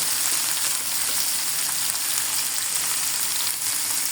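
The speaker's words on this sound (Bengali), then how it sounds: "কিছুক্ষণ নাড়াচাড়া করে লাল করে ভেজে নিতে হবে" Rohu fish mash mixture with chopped onion frying in oil in a pan while being stirred, giving a loud, steady, close sizzle that runs unbroken throughout with no voices.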